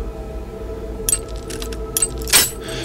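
Short metallic clicks and scrapes of lockpicking in the Oblivion video game, a few quick ticks followed by a sharper snap near the end, fairly close and dry over a low game ambience.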